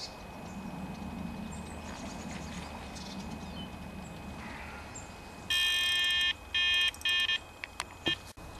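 An electronic carp-fishing bite alarm on a January bank sounds during a run, its high beeps arriving in rapid bursts and stuttering groups after a stretch of quiet outdoor ambience, followed by a few isolated clicks.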